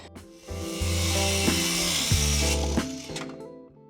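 A new Kreg power tool cuts through wood, a loud steady whirring and grinding cut lasting about three seconds, with the motor spinning up at the start and winding down at the end, with no talk over it.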